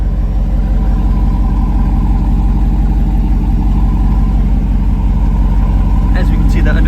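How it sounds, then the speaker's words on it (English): A 2022 Jeep Wrangler Rubicon 392 idles with its sport exhaust open, giving a loud, steady, deep rumble that stays close and constant throughout. "The sport exhaust is on, meaning that this is going to be the loudest it will be at our idle."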